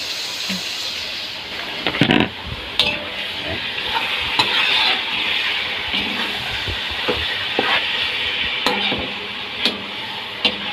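Filipino tinumis cooking in a pan, heard as a continuous sizzle with repeated clattering stirs and scrapes of a utensil, close and fairly loud, with no speech.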